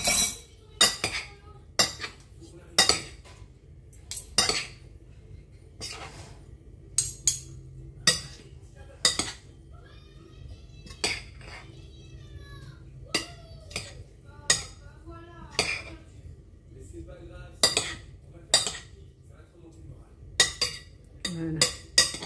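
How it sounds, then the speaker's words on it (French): A salad with parsley being mixed in a bowl, with repeated sharp clinks and scrapes of utensils against the dish in an uneven rhythm, with brief quiet speech between them. "Je vais mettre du persil. Et je vais mélanger tout ça."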